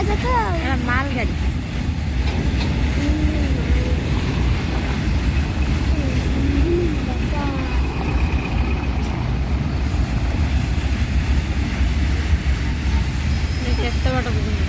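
A goods train passes a railway crossing with its gate down, making a steady, continuous low rumble that lasts the whole stretch while people talk over it.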